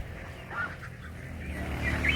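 Ducks quack a few times at a short distance, scattered nasal calls over a low background rumble.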